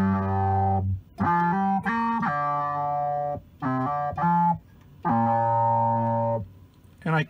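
Pitch-tracked synth voice from an Empress ZOIA effects pedal, with a resonant filter modulating its frequency, plays a buzzy, sustained melodic riff in several phrases separated by short pauses.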